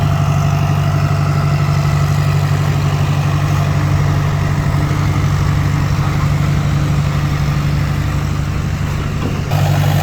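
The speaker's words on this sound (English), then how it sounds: "I'm gonna go grab a wheel loader." A wheel loader working at a rock crusher site idles with a steady, loud diesel rumble and a constant low drone that runs unbroken until a slight shift near the end.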